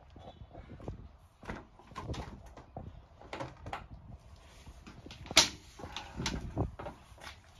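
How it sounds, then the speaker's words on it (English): Doors of a 2017 Ford Transit Connect van swing open and shut with a run of close clicks, rattles and soft thumps, then a sharp latch clack midway through and a few more handling knocks afterward. "Doors open nice, smoothly. For the highlight of the bed. Closes nicely also."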